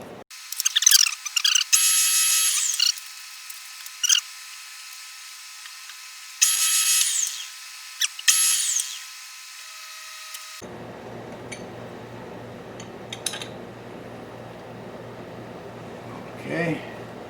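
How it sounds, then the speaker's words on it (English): Drill countersinking holes in a chamfer fixture, high-pitched whining bursts of cutting in separate passes, then quieter shop noise with a faint low hum; someone speaks at times. "we're going to countersink a couple of holes, I think."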